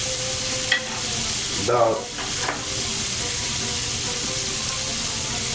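Garlic sizzles in a hot pan for shrimp soup, a steady frying hiss with brief scraping bursts as it is stirred, while a person speaks briefly.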